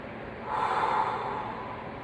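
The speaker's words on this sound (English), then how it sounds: "Keep breathing." A single audible breath, a short nasal inhale or snort swelling and fading over about a second, comes up close during a puppeteering breathing exercise.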